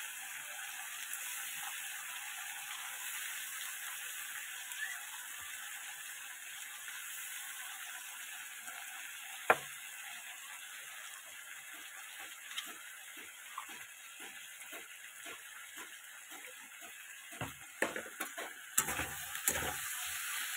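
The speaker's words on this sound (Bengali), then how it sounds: "আর দিয়ে দেবো লঙ্কা, জিরা আর পেঁয়াজ কুচুনি, এগুলো দিয়ে ভালো করে কষাবো।" Chili, cumin and chopped onion sautéing in a pan, a faint low sizzle under a run of rhythmic spatula clicks and scrapes that grow busier toward the end, with no voices.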